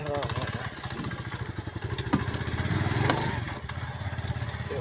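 A motorcycle engine runs steadily nearby on a village road in rural Pakistan, a continuous throbbing drone with a person talking over it throughout.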